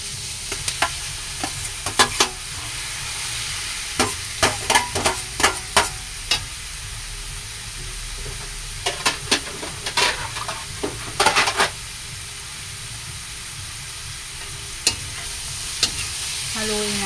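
Ground meat sautéing with softened onions in a pan for menudillo, a steady close sizzle broken by repeated scraping stirs in bursts, no talking.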